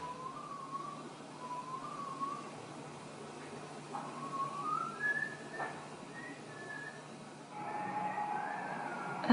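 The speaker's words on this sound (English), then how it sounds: "Someone whistling outside my motel room." Faint tonal whistling outside a motel room at night, a few short rising and falling phrases drifting over a steady low background hiss, with no voices.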